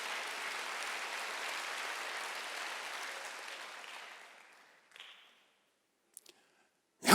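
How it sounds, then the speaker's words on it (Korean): Applause rises from a church congregation at a Wednesday service, a broad wash of clapping that holds steady, then thins and dies away before a few isolated clicks and a sudden sound at the end. "박수."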